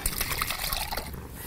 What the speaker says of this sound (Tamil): இப்போ கரைச்சி வச்சுருக்கிற குழம்ப அதில் ஊற்றி விடுறோம்.